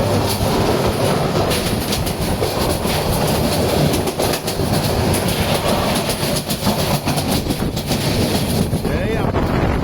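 A train passes near Ashuganj with a loud, continuous rolling roar and rhythmic clickety-clack of wheels on rails, buffeted by wind noise throughout.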